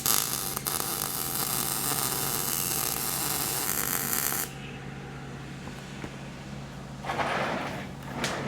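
A welding arc runs a bead with a steady crackling hiss and hum for about four and a half seconds, then cuts off, followed by a brief hiss and faint clicks.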